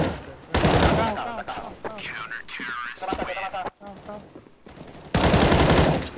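Loud bursts of automatic rifle fire in Counter-Strike: Global Offensive open and close the stretch, with scattered shots and game effects between them while players talk over the action in Portuguese.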